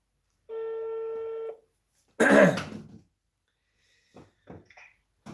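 A telephone dial tone sounds for about a second, followed by a loud throat clearing and a few faint, brief button taps of dialing, all close with silence in between.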